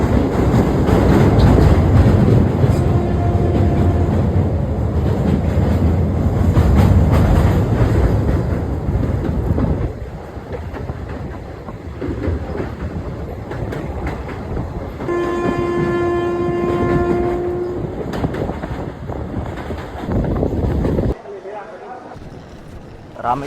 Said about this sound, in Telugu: రీసెంట్ గా నరేంద్ర మోడీ ఓపెన్ చేసిన బ్రిడ్జ్ మీద నుండి ఇప్పుడు ట్రైన్ అయితే వెళ్తుంది.